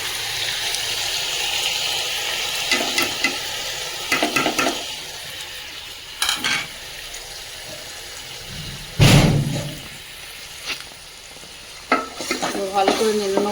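Potatoes and spices frying in a pan, with a steady sizzle throughout and repeated scraping stirs of a utensil against the pan, plus a sharper clatter midway, no talking.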